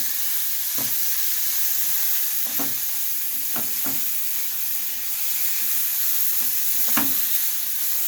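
About one and a half chopped onions sautéing in a pan for a Goan Saraswat tiny-prawn bhaji, giving a continuous loud close sizzle with several soft stirring knocks spaced through it and no voices.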